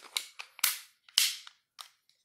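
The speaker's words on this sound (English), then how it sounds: "the mag inserts pretty easily." A magazine is pushed into a Taurus G2S pistol, giving a quick series of crisp metallic clicks and snaps, close up and otherwise quiet.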